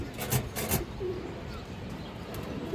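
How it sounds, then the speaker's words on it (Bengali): A pair of big Kaldam pigeons coo softly up close, with a few brief louder bursts of noise at the start. "আরেক জোড়া কালদম কৌতর বড় সাইজ"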